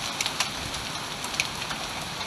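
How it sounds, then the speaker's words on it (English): Heavy torrential downpour during a storm, rain drumming steadily as a dense broadband hiss with scattered sharper drops spattering nearby, no voices. "An absolute torrential downpour."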